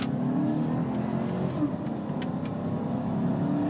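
A 2014 GMC Sierra full-size gas pickup truck accelerating hard from inside the cab, engine roar steady and loud throughout with a faint whir of road and wind noise.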